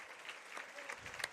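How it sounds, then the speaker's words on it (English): Crowd at a high school regional playoff game applauding as an injured player walks off the court, a steady patter of clapping throughout with a faint voice underneath. "good sportsmanship by both sides, clapping for her as she manages to walk off the court"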